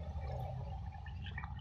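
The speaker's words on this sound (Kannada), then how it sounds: "ನಾನು 3 ಗ್ಲಾಸ್ ಅಕ್ಕಿಗೆ 6 ಗ್ಲಾಸ್ ನೀರು ಹಾಕ್ತಾ ಇದ್ದೀನಿ." Water poured into a pot of rice while making Eid-style Kushka rice, a steady close liquid gush with low rumble lasting the whole short moment.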